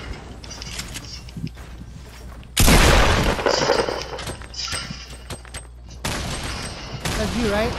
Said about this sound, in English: that's me throwing nades. I'm in a grenade launcher